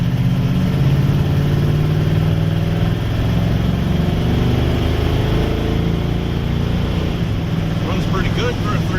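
A Chevy truck's 305 engine runs and idles at a steady low rumble, loud and close inside the cab.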